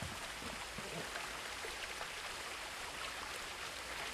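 Flowing water in the video game What Remains of Edith Finch, a faint, steady broadband rush like a stream or rain with no pauses.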